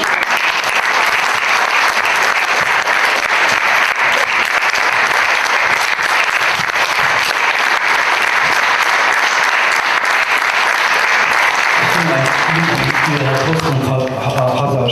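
Loud, dense applause from an audience after a travel talk about the Budapest–Bamako rally, sustained clapping filling the room, then tapering off near the end as a voice begins to speak.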